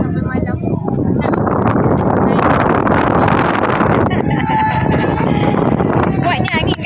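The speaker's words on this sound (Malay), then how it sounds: "Kuatnya angin kan? Angin kat Melaka memang kuat macam tepi laut kan?" Strong wind buffeting the microphone at an outdoor park in Melaka, a loud, continuous roaring gust that swells and eases, with voices and background activity mixed underneath.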